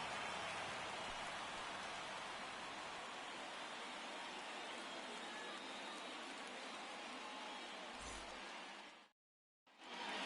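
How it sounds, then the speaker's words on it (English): Steady rain pouring in the baseball video game MLB The Show 23, a dense continuous hiss of falling drops, faint and even throughout before cutting out briefly near the end. "This rain is not letting up"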